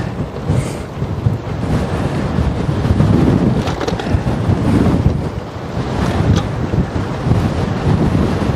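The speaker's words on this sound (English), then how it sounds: "It's a headwind / crosswind." Strong headwind and crosswind gusting hard against the microphone on a hilly, sparsely populated road, a loud, continuous buffeting roar that swells and eases throughout.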